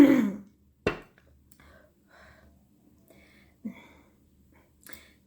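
A single person clears their throat in a short, rough burst, followed by a sharp snort-like catch and a few faint breaths and small mouth noises in a quiet room.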